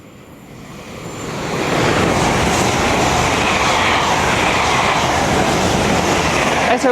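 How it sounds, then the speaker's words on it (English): An LNER Azuma train runs through Retford station on the East Coast Main Line, its rushing roar swelling over the first two seconds to a loud sustained wash as it passes close by. "Pass through now will be an LNER Azuma working a service from London King's Cross to York"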